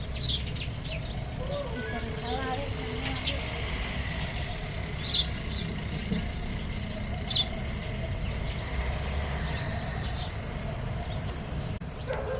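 Sparrows chirp faintly and sporadically against a constant, noisy outdoor background, with a few sharper calls standing out now and then.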